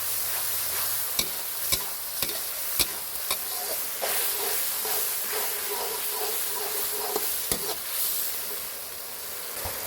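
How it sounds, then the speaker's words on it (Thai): Thinly sliced lemongrass sizzles and hisses steadily as it is stir-fried in a pan, with sharp clicks of a utensil striking the pan at irregular moments. "จากนั้นก็ใส่ตะไคร้หั่นซอยลงไปนะครับ"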